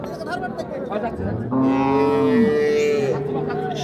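A two-toothed cow gives one long, loud, close moo that rises and then drops, with people talking faintly in the background before it, at the Raniganj cattle market.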